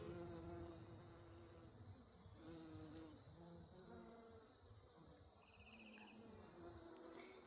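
Insects buzz steadily around flowering garden plants, including bumblebees and a chaste tree in bloom, a dense, continuous hum of many wings with some passing closer, alone without talk.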